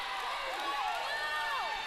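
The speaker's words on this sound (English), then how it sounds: "They're clapping, they're cheering, they're loving it" Wrestling crowd at a Revolt Pro Wrestling show cheering and clapping, a dense steady roar of many voices with whistling tones rising and falling, loud and continuous.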